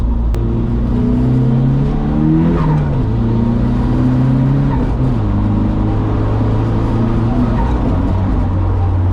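A turbocharged car engine with a blow-off valve roars loudly up close, climbing in pitch, dropping as gears shift with the clutch, then pulling hard again, with a rumbling, whooshing drone throughout.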